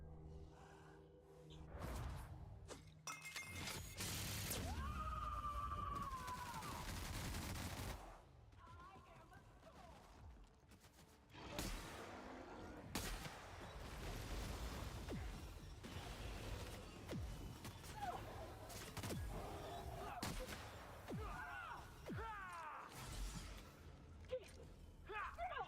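Gunfire from the space western game Space Cowboy, busy volleys of shots and clatter running nearly throughout, with a roaring burst early on and steady loud action under a talking voice.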